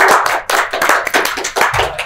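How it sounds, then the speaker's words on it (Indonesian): An audience claps for Bulania Sari on a talk show, a short burst of dense, close hand-clapping that lasts about two seconds and has no speech over it. "Tepuk tangan lu dong buat Bulania Sari"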